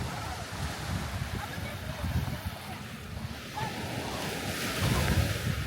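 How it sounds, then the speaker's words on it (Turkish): Sea waves breaking and washing ashore at Akyaka beach, a steady broadband surf roar with wind buffeting the microphone and swells building louder toward the end, with no voices over it. "Deniz çok güzel şu an."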